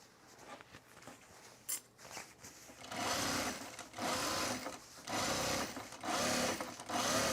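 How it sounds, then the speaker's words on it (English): A sewing machine top-stitches a seam flat in purple thread, running in several close, loud bursts of rapid whirring separated by short pauses, after a few quieter handling sounds. "I'm even gonna top stitch this nice and flat"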